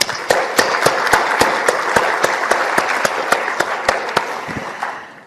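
An audience applauds cancer patients and caregivers at a live talk, with steady crowd clapping and sharp individual claps punctuating the sound throughout, fairly loud and close, without speech.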